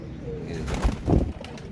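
Royal Teddy pigeons give a brief low, throaty coo or two, close by, over faint background noise.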